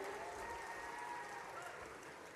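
A crowd at a Khargone public event applauds a member of parliament, a faint, distant and steady wash of clapping with a low murmur of voices, brief and unbroken.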